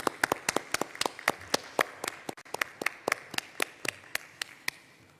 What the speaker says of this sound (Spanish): un aplauso nuestro,